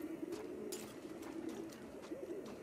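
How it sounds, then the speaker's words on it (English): Pigeons coo in the video game The Last of Us Part II, soft repeated throaty warbles close by over a quiet room ambience, with no talking. "Those pigeons cooing?"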